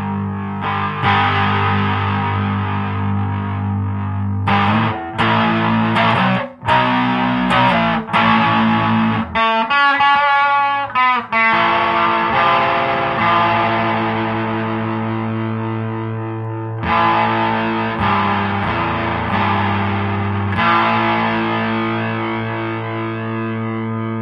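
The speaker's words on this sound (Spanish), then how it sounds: "esta es una distorsión solamente a la mitad de su rango normal" Electric guitar played through an MXR Distortion+ pedal set to half its distortion range, loud sustained chords with a thick, saturated tone, a brief choppy stretch midway, then ringing chords again.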